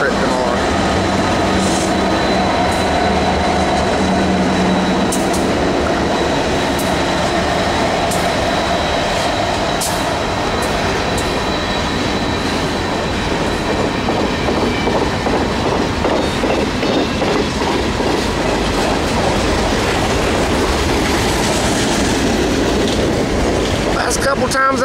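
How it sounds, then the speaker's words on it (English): A Norfolk Southern 192 manifest freight train of about 112 cars, led by SD80MAC, CW44-9, SD70M-2 and SD60M locomotives, rolls steadily past up close, with a continuous rumble and rhythmic clickety-clack of wheels over rail joints that grows busier toward the end. "Times I've seen 192, they've been a pretty big train."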